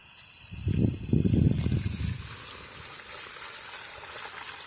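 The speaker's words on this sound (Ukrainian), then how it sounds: "перемішуємо і виливаємо все під наш кущ" Fertilizer solution poured onto the soil beneath a grapevine before flowering, a splashing, hissing gush lasting about a second and a half, then fading into quiet outdoor background.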